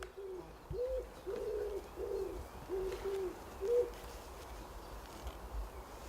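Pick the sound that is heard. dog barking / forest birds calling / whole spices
forest birds calling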